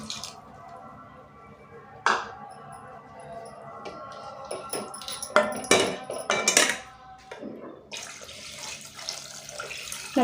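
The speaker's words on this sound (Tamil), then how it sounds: "நமக்கு தக்காளி ரசம் எவ்வளோ தேவையோ அந்த அளவுக்கு தண்ணி கலந்துக்கோங்க." Water is poured into soaked tamarind for tomato rasam in a home kitchen, giving splashing and trickling sounds with a few clinks of a utensil against a vessel, moderately close.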